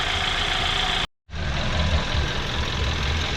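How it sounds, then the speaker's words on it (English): A Hyundai Sonata engine runs steadily at idle with its radiator cooling fan spinning, giving a continuous near broadband whir and engine rumble, briefly cut by a short gap of silence before resuming. "Okay, so the fan's spinning down there."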